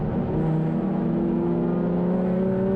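A grid of touring cars racing at Brands Hatch in damp conditions, engines droning loudly and steadily as the pack goes past, a sustained mechanical roar with no voices heard.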